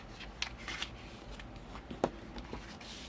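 Paper pockets are folded and burnished by hand, making faint, sparse rustles, soft scrapes and a few light taps in a quiet room.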